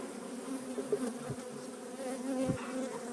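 Honey bees swarm and hum around an opened beehive with frames pulled for inspection, a steady close buzzing with no voices.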